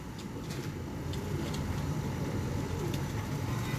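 Breeder pigeons cooing in a loft, soft low coos repeating under a steady broadband hiss, with faint higher bird calls scattered through.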